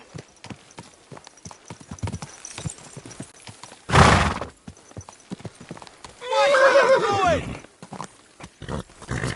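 Steady hoofbeats clop along beneath a burst of noise, then a horse lets out a loud, wavering whinny; voices murmur faintly in the background.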